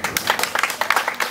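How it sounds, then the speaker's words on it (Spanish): A small group claps briefly during a children's show, quick irregular hand claps close by, a short burst that stays fairly loud throughout. "Un aplauso para mis amigos"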